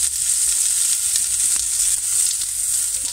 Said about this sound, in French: Vous remuez de temps en temps pour pas que ça brûle.